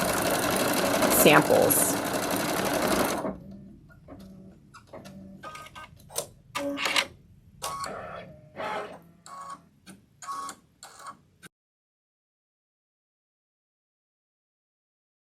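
Embroidery machine stitching a holiday design in 40 weight regular embroidery thread on medium weight tearaway, with a steady run of mechanical clatter followed by intermittent bursts of stitching and pauses, fairly close, and people talking briefly at the start.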